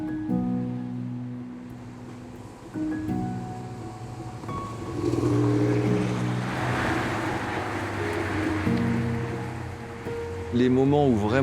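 Classic Porsche 911 engine revving through its gears, tonal drone stepping up and down in pitch with surges of louder rumble, ending in a rising wavering rev, heard from inside the car with some wind noise.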